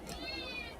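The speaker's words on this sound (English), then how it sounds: "You hear my cat crying in the background still, always." A single indoor cat gives one drawn-out meow, clear and fairly close, with a light thump at the end and no talking.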